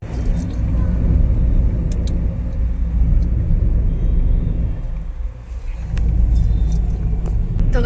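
Car rumbling from inside the cabin on a village road, a steady low engine and road drone throughout with a brief dip midway and occasional light clinks and jangles, while a person talks over it.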